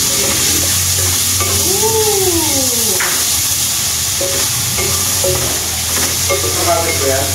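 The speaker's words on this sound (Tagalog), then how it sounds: "Kaya ito ginisa na lang na sayote." Chayote and tomato sauté in a hot pan with a constant loud sizzle, joined by occasional scrapes and clinks of a utensil stirring; no one speaks.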